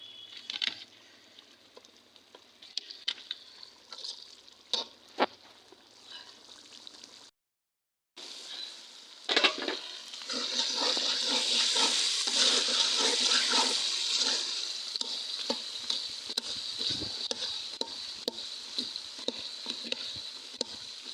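Fish pieces fry in oil over a village clay stove for a fish-head and gourd curry: scattered clatter and stirring, a brief pause, then a loud, sustained hissing sizzle with spoon scrapes running on to the end.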